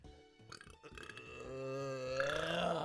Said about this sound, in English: I think I had a burp as I was swallowing water.